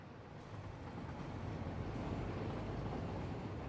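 A train passing in the factory-building video game Satisfactory, heard as a steady, low rumbling roar that swells slightly and holds throughout, with no talking.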